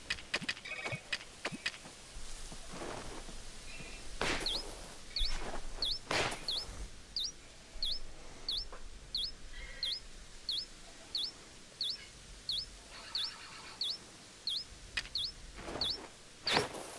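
Birds chirp in a flower field in the video game Pokemon Legends Arceus: a fairly faint, evenly spaced series of short, high chirps repeats steadily for many seconds, with a few soft clicks and thumps around it.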